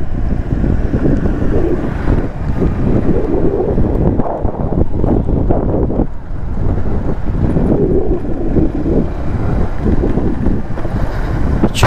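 Steady wind gusting outdoors on a small bridge over flowing water in Kune village near Khandala, a loud continuous rumbling roar buffeting the microphone with no one talking.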